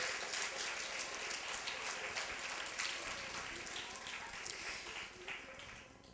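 A crowd at a Befana celebration in Tavernelle di Serrungarina gives the singer dense, continuous applause that tapers slightly toward the end, heard from within the audience.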